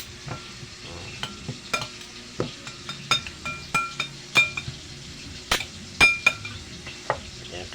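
Radish kinilaw being mixed with dried fish in a bowl, a series of irregular clinks and scrapes of a utensil against the dish, close and moderately loud, no talking.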